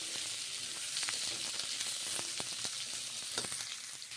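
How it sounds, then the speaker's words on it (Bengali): Pieces of papaya sizzle steadily in hot mustard oil in a wok. The close, even frying hiss is broken by scattered crisp pops, and no one speaks. "ভেজে নিচ্ছি পেঁপেগুলো। এখন কড়াইয়ে গরম তেলে দিলাম,"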